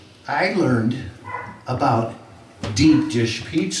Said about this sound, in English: you can hear my dogs barking